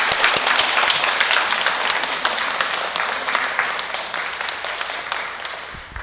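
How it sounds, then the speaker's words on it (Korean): Steady applause from a parish monthly meeting crowd honouring members celebrating their feast days, many hands clapping closely and gradually tapering off, with no talking. "모두 출석하셨으면 일어서 주시고 모두 박수 받아 주십시오"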